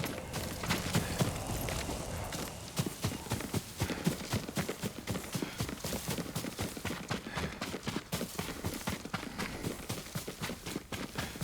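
Horse hooves clip-clop steadily in the video game Ghost of Tsushima, a fast continuous rhythm of close, distinct hoofbeats running throughout with no talk.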